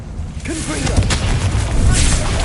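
A Confringo fire spell blasts in Hogwarts Legacy, a loud booming burst with crackling impacts amid ongoing game combat noise, with a voice speaking over it.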